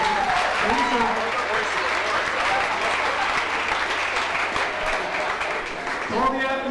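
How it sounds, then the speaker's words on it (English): At an athletic banquet, a hall audience gives the athletes a long, steady round of applause, full and close, with voices rising over it at the start and near the end. "give these guys a round of applause, folks."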